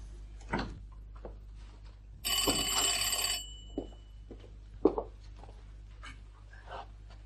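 A telephone bell rings once in a short burst of about a second, loud against a quiet room with a low hum, during a Spanish television stage play; scattered soft knocks and movement come before and after.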